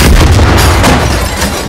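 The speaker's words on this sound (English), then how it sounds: "Explosion!" A powerful explosion in the game Far Cry 5: a loud, close, sustained roaring blast with heavy low rumble that stays dense and overpowering throughout.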